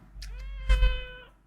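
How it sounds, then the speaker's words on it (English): A single close, clear cat meow rises and falls over about a second, loud against a quiet room. "Yeah, you're a good kitty."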